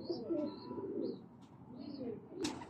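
Royal Teddy pigeons coo softly in low, continuous murmurs, with a few higher chirps and a brief flutter near the end, fairly close and unaccompanied by talk.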